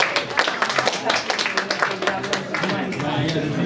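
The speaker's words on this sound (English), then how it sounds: "we have another round of applause" A small audience at a creative showcase event gives a round of applause for a performer, a short burst of close, steady clapping that thins slightly toward the end.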